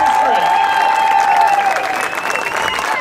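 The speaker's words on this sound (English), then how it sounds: "let's hear a loud round of applause for our council member Jose Huizar" An outdoor crowd applauds loudly for a city council member at a campaign kickoff rally in El Sereno, with sustained clapping and cheering and a voice talking over it.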